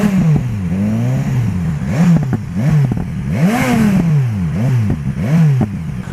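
A motorcycle with a stock exhaust fitted with opening flaps revs repeatedly, engine pitch climbing and falling in quick blips with crackling pops between, loud and close, no talk.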